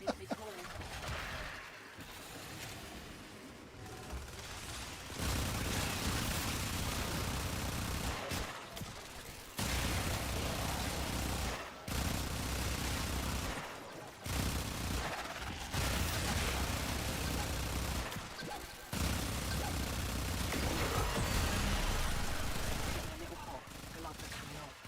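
Rapid, sustained bursts of gunfire from weapons with a fire rate buff in the Warframe video game, loud and dense, broken by brief pauses between volleys.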